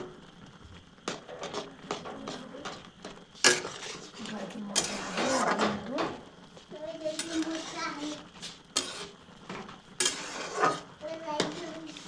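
Maggi noodles stirred with their packet spices in a pot, giving scattered scraping and metallic clinks of a utensil against the pot, with faint voices in the background.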